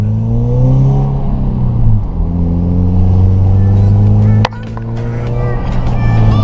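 A Subaru engine running without catalytic converters, loud and throaty, its pitch rising and dipping as it revs, with a voice briefly audible beneath.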